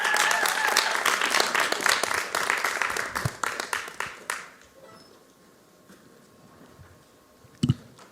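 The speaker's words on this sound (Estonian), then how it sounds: "Aplaus!" An audience at a 2022 national youth music competition applauds as a young music-school performer from Valga comes on stage, with full, steady clapping for about four seconds before it thins out and fades into quiet.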